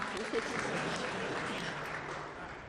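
Applause rising in a room, a soft continuous patter of clapping held at an even level for a couple of seconds, with voices mixed faintly underneath.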